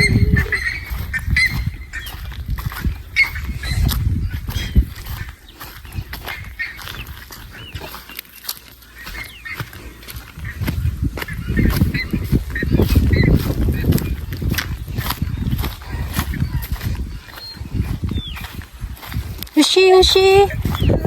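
A large bird honks repeatedly amid loud, busy background noise and talking.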